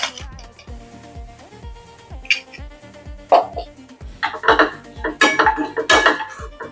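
Peanuts being stirred into sabudana khichdi in a pan, with a spoon scraping and clinking against the metal in an irregular rhythm that gets busier and louder toward the end over a steady musical background.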